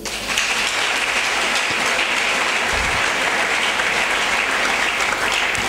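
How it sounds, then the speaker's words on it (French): Church congregation applauding, a dense, continuous wash of clapping from many hands that stays loud and even throughout with no talk standing out. "Oh, acclamons cela."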